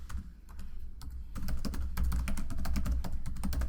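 Rapid keystrokes on a computer keyboard as an email address is typed, a steady run of close, crisp clicks over a low background hum.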